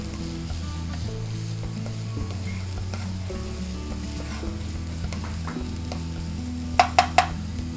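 Garlic and tomato sautéing in a pan for Kapampangan-style camaru, a steady sizzle and frying hiss throughout with stirring, and a few sharp clinks of a utensil near the end.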